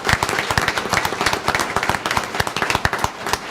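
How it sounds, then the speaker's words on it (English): A small crowd at a Vallecitos Water District board meeting claps for students, a brisk, dense patter of hands in a room, loud and sustained with no talk over it. "Can I get a round of applause for all of our students?"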